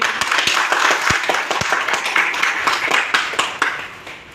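An audience claps steadily for a guest at a hotel product event, a dense, continuous wash of many hands with a few sharper close claps standing out, loud and sustained before easing off slightly at the end.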